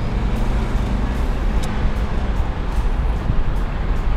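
Steady low rumble of a 1963 fuel-injected classic car engine while driving, a continuous close road drone with broadband noise and no talk over it.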